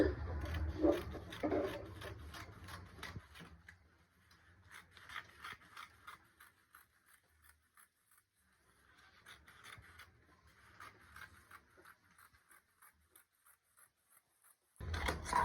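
Scissors cutting through fabric for a beaded modest kimono gown, steady close rasping and rubbing strokes in bursts, louder at the start and end with a quieter stretch in the middle.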